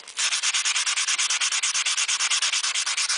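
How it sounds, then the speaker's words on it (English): Hand sanding of stainless steel with 150 grit sandpaper, a rapid rhythmic scratchy rasp of about a dozen even back-and-forth strokes per second, close and steady, with no voices. "take your 150 and just in one direction, you're just filing out, sanding out all the file marks."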